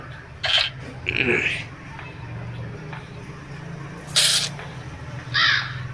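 Crows caw in the horror video game Granny, with a few separate harsh calls spread out over a steady low background hum and no talking.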